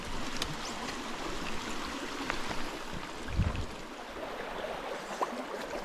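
A small brook trout stream in Central New York flows steadily over rocks beside a pool, a close, even rush and trickle with no voices and a brief louder splash partway through.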